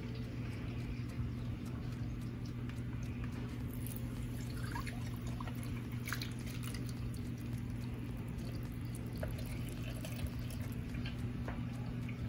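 Rendered lard dribbling through a funnel and sieve into a jar, a soft continuous trickle with scattered small drips over a steady low background hum.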